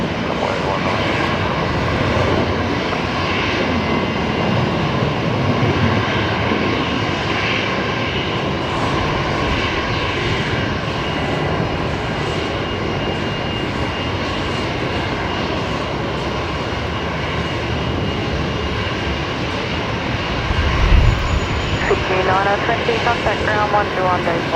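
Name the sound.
Boeing 737-800 airliner landing at Brisbane Airport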